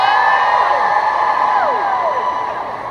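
An audience at a company conference closing event yells, whoops and cheers together, loud and close, with a couple of rising and falling whoops standing out before the noise slowly fades.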